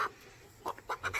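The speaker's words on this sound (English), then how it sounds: "This is my most rambunctious rooster." A lively rooster being handled gives a few short, close clucks, one at the start and then a quick cluster near the end, with quiet between them.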